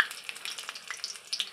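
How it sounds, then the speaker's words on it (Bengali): Bok phul (hummingbird tree flower) fritters fry in a wok, a soft, steady sizzle with faint crackles and small pops, quiet and close. "যে আর এক পাশটা উল্টে দিয়েছে, এখন ভাজা হচ্ছে"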